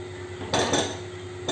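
A spoon scrapes and clinks against a cooking pot while chole are mixed with spices, giving two short metallic stirring bursts separated by a quiet pause, close by and with no talking.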